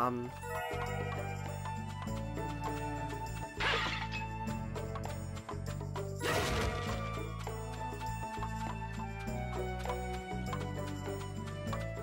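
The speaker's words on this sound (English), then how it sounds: "smashing these pots and crates and stuff and picking up stuff" Pots and crates smashed in the game Naruto Shippuden Ultimate Ninja Storm 3, two sharp crashing breaks a few seconds apart over continuous game music.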